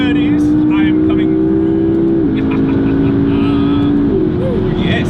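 A McLaren MP4-12C accelerates hard in first gear, engine droning loud and steady with rising pitch and a gear change, heard from inside the car while a person talks excitedly over it.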